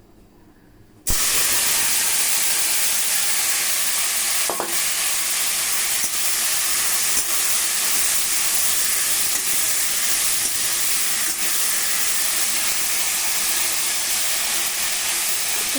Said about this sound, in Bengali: তেল হয়ে গেছে এবার আমি কড়াইতে লতিটা ঢেলে দেবো